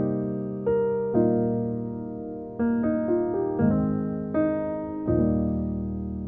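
Solo piano playing the intro to Jireh with gospel jazz chords: a slow run of rich sustained chords with a few melodic notes between them, each struck chord ringing and decaying, played alone without talk.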